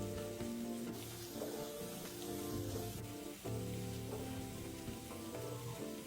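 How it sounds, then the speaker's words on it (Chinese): About 100 grams of shallot slices fry in cooking oil over medium heat, a steady, fairly quiet crackling sizzle with soft bubbling. A sustained tonal background, likely music, runs underneath and nobody talks. "100克小红葱片，冷油下锅，炉开中火，慢慢将葱片油炸至金黄色"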